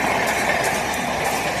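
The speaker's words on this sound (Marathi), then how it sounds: "फास्ट आहे त्यामुळे तिरुपती ट्रेन" A fast Tirupati express train passes near the railway ground at Thakurli, Dombivli West, in the morning, as a steady, loud, broad rushing roar with a low rumble that fills the whole moment without a break.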